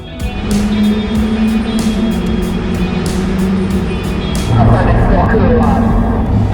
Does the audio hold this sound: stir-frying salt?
no